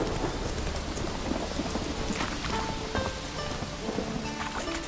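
Rain falls steadily in The Witcher 3 video game, a dense hiss of drops on surfaces with low thunder rumbling underneath, continuous and fairly loud throughout.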